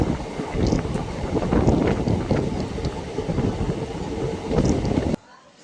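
Riding the 04217 Lucknow Intercity SF Express from Varanasi toward Ayodhya, near Gosaiganj station: a steady rolling rumble of wheels on track mixed with gusty wind buffeting the microphone, cutting off abruptly near the end.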